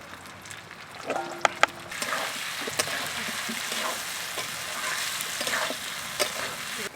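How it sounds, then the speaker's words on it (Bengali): Fried potatoes are tipped into a pan of sizzling braised chicken; a few sharp clacks of utensils start it, then a steady close sizzle with stirring scrapes carries on, without talk. "এই ভেজে রাখা আলুটা আমি এবারে দিয়ে দেবো।"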